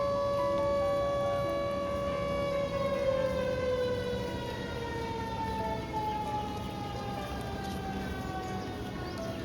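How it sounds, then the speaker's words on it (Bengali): At Mingles Tea Estate near Malbazar, the tea factory siren wails in a long, steady, loud tone that slowly drops in pitch and carries across the open garden. "কারখানার সাইরেন বাজার সাথে সাথেই"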